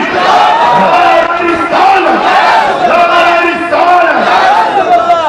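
A large crowd at an Islamic conference in Saidpur Golahat roars back in unison to a takbir call, loud, sustained chanting voices rising and falling in repeated waves for several seconds.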